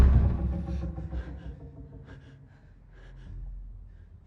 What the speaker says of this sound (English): the tension builds through the sounds of their heightened breathing